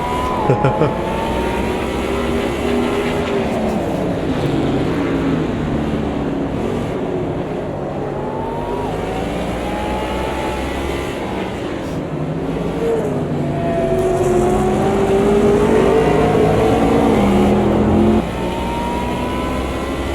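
Race car engines in Automobilista 2 drone loudly and steadily, with pitch rising and falling through gear changes as the cars run bumper to bumper behind a Lamborghini, and someone commentates over the engine noise throughout.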